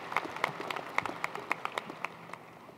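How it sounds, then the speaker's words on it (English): An audience applauds at a 2019 community college commencement ceremony, heard as moderate, fairly sparse clapping that holds steady and then thins out toward the end. "Please, a round of applause for Tracy."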